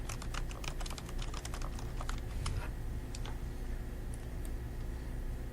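Rapid clicking keystrokes on a computer keyboard as a file name is typed for a Creo drawing template, a fast burst of taps that thins out to a few isolated presses, close and clear.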